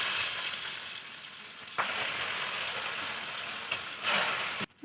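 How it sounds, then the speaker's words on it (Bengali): Tangra fish frying in hot mustard oil in a frying pan, a steady loud sizzle with a couple of sharp bursts as pieces hit the oil, no voices. "সর্ষের তেল গরম হয়ে গেছে, এবার ট্যাংরা মাছগুলো আমি ভাজতে দেবো।"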